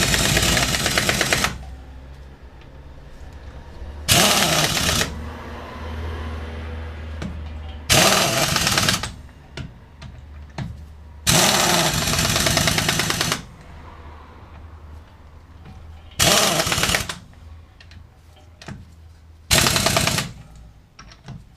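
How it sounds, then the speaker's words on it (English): Impact gun tightening VW Polo drop links, a loud close hammering rattle in six separate bursts of one to two seconds each, separated by quieter workshop gaps. "And then do it up with the impact gun"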